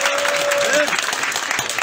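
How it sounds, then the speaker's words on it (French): Crowd applause at an outdoor rally in Mali, dense clapping with a whistle-like tone and voices mixed in, loud and continuous for the short stretch. "Applaudissez pour Ben."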